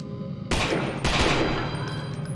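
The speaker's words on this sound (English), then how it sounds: "Firing these shots off really fast." Rapid gunfire in the video game Lost in Vivo, two loud close bursts of shots fired in quick succession about half a second apart, each trailing into a ringing decay.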